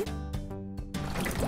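In an animated children's emergency-vehicle scene, water is poured with a gurgling, filling splash that breaks in after short tonal notes and continues to the end.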